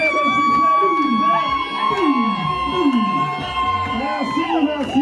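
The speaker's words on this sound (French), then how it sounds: "Des acclamations, des cris de joie, des sifflets, des sifflets." A civil wedding crowd cheers, shouts for joy and whistles in a steady, loud wash of voices with rising and falling calls, while music plays throughout.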